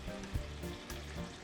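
A hamburg steak sauce with butter and oil sizzles in a pan as it is stirred toward a gentle boil, a soft steady frying hiss broken by light scraping stirs.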